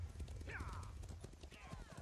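A horse clip-clops along in The Elder Scrolls Online, quiet hoofbeats with a faint whinny, heard at low level amid game ambience.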